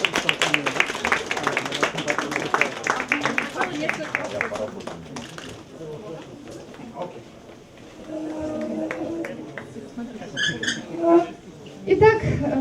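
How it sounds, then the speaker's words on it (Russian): Audience applause at a bookshop author event, a burst of clapping that tails off, followed by faint scattered sounds and quiet noise in the room. "Ваши аплодисменты!"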